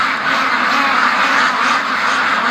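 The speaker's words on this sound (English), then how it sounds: "All right, the duckies want out bad." A crowd of free-range ducks by a lake quack loudly and continuously up close, a dense overlapping chorus of calls.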